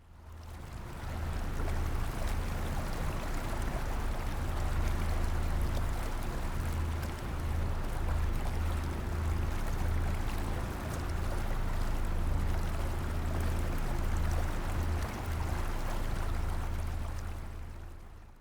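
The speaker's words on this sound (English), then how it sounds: "this sound is the sound of a Thailand riverboat on the Mekong River" Thai riverboat on the Mekong River in Thailand, a steady low engine drone with constant water wash, close and continuous throughout with no talk.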